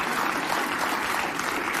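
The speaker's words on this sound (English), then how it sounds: "Nobody would clap for him if it wasn't for the paid cheerleaders he has in the crowd" A studio audience at a talk show breaks into a burst of dense, sustained applause, loud and close for about two seconds, with no speech over it.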